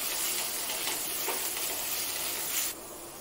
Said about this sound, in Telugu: పాలకూర మెత్తబడేంత వరకు లో ఫ్లేమ్లో పెట్టుకొని కలుపుకుంటూ బాగా వేయించుకోవాలి